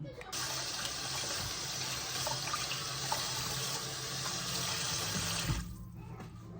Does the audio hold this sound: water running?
yes